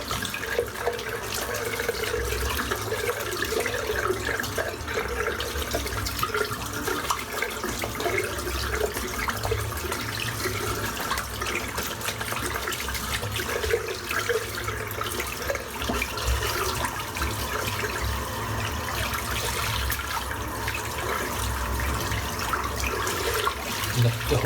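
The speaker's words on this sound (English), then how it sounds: "I find I have to really rinse this over and over again just to get right deep into the fibres to get every last bit of soap out" A shaving brush is rinsed under running tap water in a bathroom sink, a continuous moderate splashing and trickling stream that goes on without a break.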